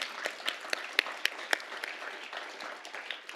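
A small school ceremony audience gives a round of applause for award winners, with scattered, fairly quiet clapping and a few distinct sharp claps early on, tapering off toward the end.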